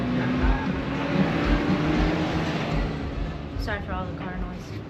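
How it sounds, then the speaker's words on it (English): Broadband rushing road noise from a car in motion, loud and steady with low rumbling bursts, while a voice speaks briefly near the end. "sorry for all the car noise"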